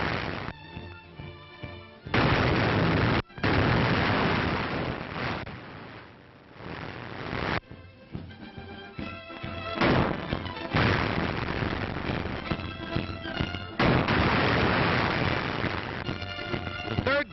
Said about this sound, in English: artillery stages a battle against Jack Frost